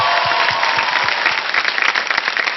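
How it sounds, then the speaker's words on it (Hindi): A studio audience at a televised talent show breaks into loud, dense applause with sharp individual claps standing out, sustained throughout. "जोरदार तालियां, कम ऑन।"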